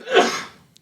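A single short sneeze, close and fairly loud, a sharp burst that trails off within a second.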